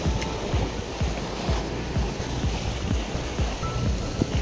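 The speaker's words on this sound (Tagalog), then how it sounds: "Kaya medyo malakas yung alon dito sa fishing spot namin." Strong surf rolls onto a beach at high tide, heard as a steady wash of water with gusty wind buffeting the microphone.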